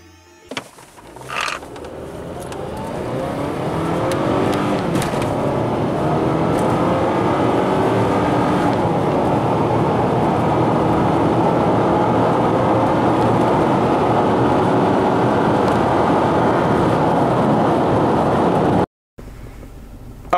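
A Mazda CX-7 2.3 turbo accelerating hard on a 0-60 run, engine note and road roar building quickly to a loud sustained drone with rising pitch through the gears before cutting off near the end.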